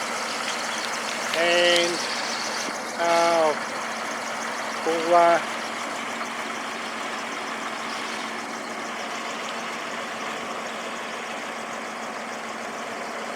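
A vehicle kept in a personal motor pool sits idling as it warms up, a steady low engine drone running throughout, with someone talking briefly over it in short bursts.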